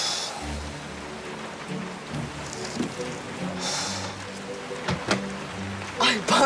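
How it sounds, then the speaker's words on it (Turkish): Sudden heavy rain pours in a steady broadband hiss, with faint low rumbles beneath and a few sharper splashes near the end, while voices speak intermittently over it. "nasıl yağmur birden bastırdı"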